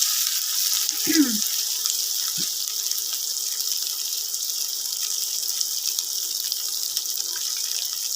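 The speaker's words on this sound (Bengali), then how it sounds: "তার সাথে আলু সেদ্ধ করে নিয়েছি, সেগুলো দিয়ে দিলাম।" Boiled potatoes with chopped chili and grated ginger drop into a hot pan for a Bengali vegetarian cabbage curry, giving a brief near splash and crackle early on before a steady soft frying hiss.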